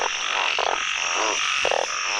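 Banded bullfrogs caught at night call in a dense chorus of overlapping croaks. The calls come loud and close as repeated pulsing bursts over a steady background of many more frogs.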